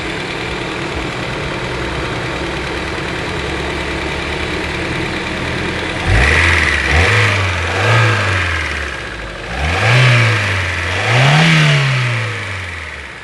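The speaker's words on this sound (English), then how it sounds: "These are engines you find in your cars." A car engine idles with a steady low rumble, then revs up repeatedly in several rising and falling swells, loud and close, with no voices.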